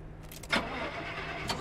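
A car engine in the survival driving game Pacific Drive runs with a steady low hum, marked by a short louder burst near the start and a faint rise at the end, with no talk.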